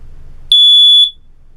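A single sharp, piercing electronic beep from a smoke detector converted into a water alarm, triggered by water, held for about half a second, loud and close, then quiet.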